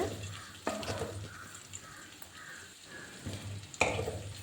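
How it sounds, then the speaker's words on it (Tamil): Peanuts stirred and roasted in a pan over low heat for curry leaves rice, with soft scraping and rattling strokes at irregular intervals and a faint frying hiss underneath. "கடலையும் சேர்த்து நல்லா ரோஸ்ட் ஆகிற அளவுக்கு வறுத்துக்கோங்க"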